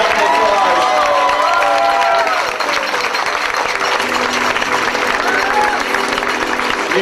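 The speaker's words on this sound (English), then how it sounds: "Give them a big round of applause" Wedding guests at a reception applaud the newly introduced couple, Mark and Dawn, a loud, dense wash of clapping and crowd noise throughout, with scattered voices and cheers mixed in.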